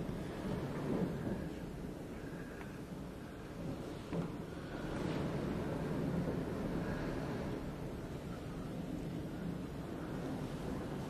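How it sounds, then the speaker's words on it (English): Low rumbling thunder rolls through a blizzard during thundersnow, a steady windy roar with a few swelling booms around the middle, heard outdoors at moderate loudness with no talking. "They're talking thunder snow."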